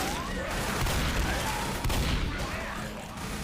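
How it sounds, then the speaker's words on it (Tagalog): Shotgun blasts fired in Left 4 Dead, a dense run of rapid, continuous shots with booming low end and crackling noise across the whole span, loud and close with no quiet gaps. "Ito yung shotgun na malupit oh"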